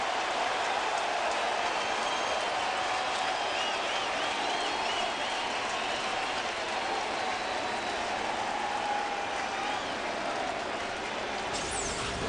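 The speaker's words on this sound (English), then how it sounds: "Listen to this crowd." Baseball stadium crowd at a Dodgers–Cardinals game roars steadily, a distant, continuous wash of cheering noise with no distinct voices, constant in level throughout.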